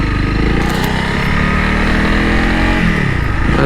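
Honda CRF 300 Rally adventure motorcycle revving and accelerating close by, a loud continuous engine drone with rising pitch through the whole stretch.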